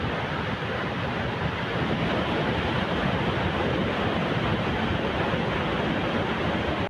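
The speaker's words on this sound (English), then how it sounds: "the Malapattava waterfall flowing from the Mathurata region is now in full spate" The Malapattava waterfall from the Mathurata region pours in full spate after heavy downpours, a steady, dense rushing roar that holds unbroken throughout, with no voices.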